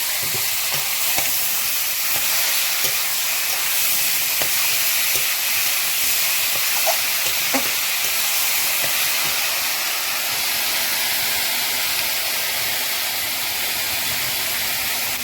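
Taro greens sizzle loudly in a hot pan, a constant hissing crackle with scattered small pops and faint stirring clinks, no talking.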